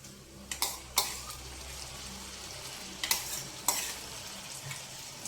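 Boiled chana dal stirred into a sizzling beetroot fry in a pan, a soft steady sizzle with a few sharp spoon scrapes and knocks against the pan.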